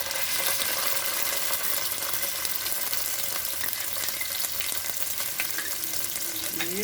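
Garlic paste fries in oil with cumin over a lowered gas flame for a Bengali doi katla, giving a steady, even sizzle that runs unbroken throughout, fairly faint and with no talk over it.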